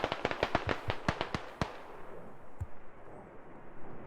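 Mortar shells exploding in the video game Squad, a rapid volley of about a dozen sharp blasts in the first second and a half, then rumbling decay and one more distant thud, with no voices.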